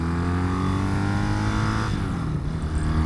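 A BMW R100R Mystic motorcycle engine revs hard and steadily, a loud continuous roar with rising pitch and no voices.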